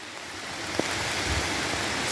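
Rain falls outdoors near a watermelon patch, a soft, steady hiss of drops filling the air with one brief tap partway through.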